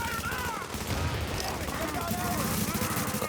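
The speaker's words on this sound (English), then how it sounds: "Yeah, all the explosions." Dense bursts of video game gunfire and explosions crackle continuously, loud and chaotic, with a few faint electronic tones woven through the barrage.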